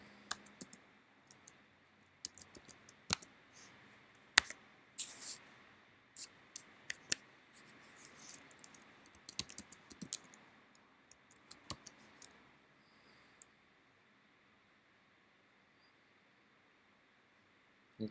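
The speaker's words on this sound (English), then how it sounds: "So I'm going to type this in here." Computer keyboard typing in short, irregular bursts of faint clicks with pauses between, fading out to quiet near the end.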